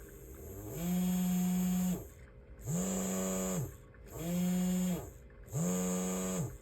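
Small electric motor under PWM speed control whining in four distinct bursts, each pitch sweeping up as it speeds and dropping as it slows, with a high buzzy edge and short quiet gaps between.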